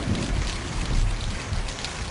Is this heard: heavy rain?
yes